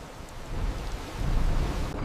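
A thunderstorm rolls around a lighthouse: steady heavy rain and a deep rumble of thunder build and swell through the short stretch, loud and continuous, with no voices.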